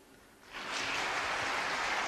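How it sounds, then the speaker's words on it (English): Applause from a snooker arena audience after a 129 clearance at the International Championship, rising quickly from quiet and then holding as a steady, even wash of clapping. "That's the applause you can hear."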